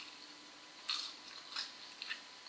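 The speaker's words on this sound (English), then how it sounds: "it's all crispy and all the layers are separated and it's crunchy and chewy, and hopefully you can hear me eat it" Crisp bites crunch into a crispy, layered Chinese green onion pancake, three or four short, close crunches in a quiet room with no talk.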